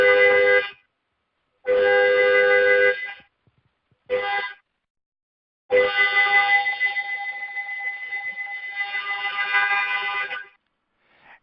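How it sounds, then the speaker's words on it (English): A car horn sounds a code of two long honks, then one short honk, then one very long sustained honk. The blasts are loud and close, with silent gaps between them. "The second code is 2 long honks, 1 short honk, and then 1 long honk for 15 seconds."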